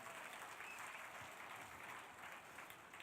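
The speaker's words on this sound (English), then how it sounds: "Can you give a round of applause for the organizers and the sponsors?" Applause from a conference audience for the organizers and sponsors at a talk on AI and music, a steady, even wash of clapping that stays faint and distant throughout.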